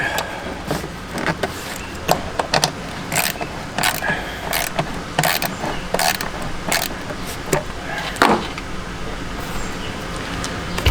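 Metal parts of a Nissan Altima engine are tightened by hand, giving close, irregular clicks, ratcheting and clanks in short bursts, with a brief scrape partway through.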